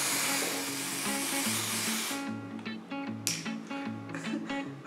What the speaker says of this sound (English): while I'm spraying, you can see that the color is starting to change